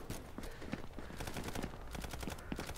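Rapid gunfire in the VR shooter Contractors VR: dense bursts of automatic shots crackle back to back for the whole stretch, loud and continuous, with a few sharper single reports standing out.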